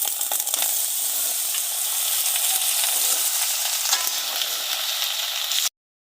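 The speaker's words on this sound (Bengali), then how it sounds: "ফোড়নে মাংস দেওয়া হচ্ছে" Chicken meat hits hot oil tempered with cumin, bay leaves and dried chillies, giving a loud, close, continuous hissing sizzle with light stirring that cuts off abruptly near the end.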